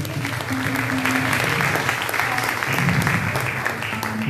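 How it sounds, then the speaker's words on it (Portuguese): A church congregation claps along during worship praise, making a steady, moderately loud patter over a sustained musical backdrop, with no speech. "Você pode bater palmas para Jesus?"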